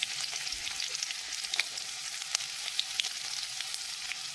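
Cumin, chili and crushed garlic paste sizzle steadily in hot oil while making besan patwadi, a dense continuous crackle with small pops and no speech.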